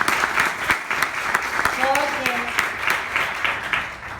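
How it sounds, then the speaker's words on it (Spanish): An audience applauds a sponsor at a gathering, with steady, moderately loud clapping throughout and a brief voice speaking over it. "Para quien yo pido un aplauso que le mandemos todos los días."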